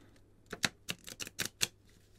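Playing cards being riffle shuffled, freshly unboxed, in a short run of sharp crackling bursts, close and fairly quiet with no talk.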